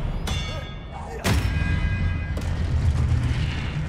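Expelliarmus spell cast in Hogwarts Legacy, a sharp crack followed by a heavy booming blast, with a second thump, loud and close over a rumbling game backdrop.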